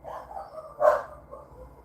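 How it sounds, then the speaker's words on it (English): A single dog gives one loud, close bark during a live stream, with a soft yip-like sound before it and quiet room noise around it. "Please forgive the all dog alert."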